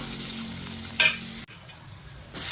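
Garlic sautéing in a small amount of cooking oil, a steady close sizzle with a brief louder burst near the middle, a short pause, then the frying swells again toward the end.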